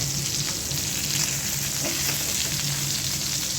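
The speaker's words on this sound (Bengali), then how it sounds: "মাছ ভাজাগুলো উঠিয়ে নিচ্ছি।" Rohu fish pieces frying in a pan, producing a dense, loud, unbroken sizzle and spatter that holds steady from start to finish, close up and with no voices.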